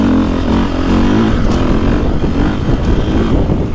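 A 2024.5 KTM 450 Factory Edition dirt bike engine runs offroad, holding a loud, steady, close throttle with slight swells in revs across the whole stretch.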